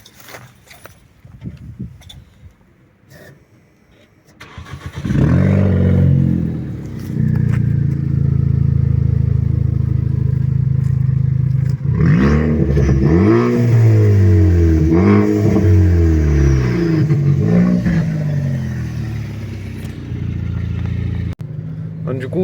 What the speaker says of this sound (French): Allez, ouais, je te la démarre